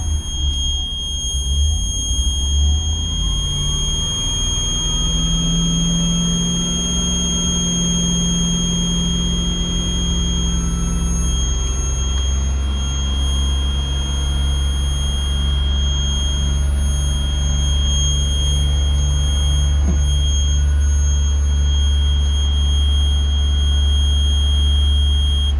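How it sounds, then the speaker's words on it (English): A low air pressure warning buzzer on a bus sounds as a steady, continuous high electronic tone over the idling engine's loud rumble, lasting the whole stretch. "our air pressure indicator, low air pressure indicator, has gone off"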